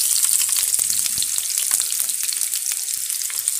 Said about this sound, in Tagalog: igisa na natin yung ating ano, sibuyas, mga ganyan